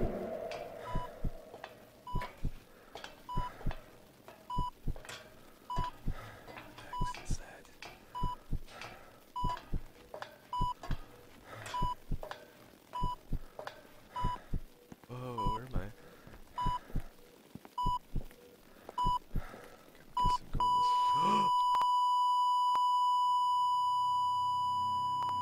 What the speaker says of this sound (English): There's a staircase and it's beeping.